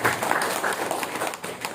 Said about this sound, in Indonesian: tepuk tangan untuk tim penggerak PKK Desa Temyang Sari